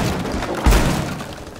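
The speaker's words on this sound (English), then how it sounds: "Here, I'm blowing out that wall behind." A wall is blasted out during a hostage extraction round in Rainbow Six Siege: one sudden, heavy thud-like explosion lands mid-clip over steady game ambience and trails off quickly.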